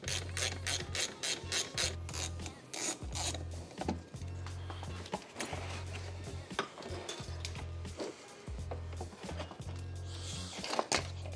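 Hand tools working on a salvage car to take off its front bumper: fast ratcheting clicks in repeated bursts close by, with scraping and rubbing of plastic and metal, all over a steady low hum.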